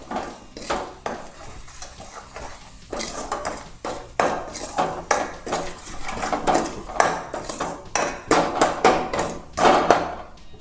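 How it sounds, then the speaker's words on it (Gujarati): A spoon or spatula is stirring and scraping aloo samosa filling of potato mixture with salt in a pan on the stove, making loud, rhythmic metallic clanks and scrapes that repeat steadily throughout, close up with no talking. "આ બધાને મિક્સ કરી લઈશું।"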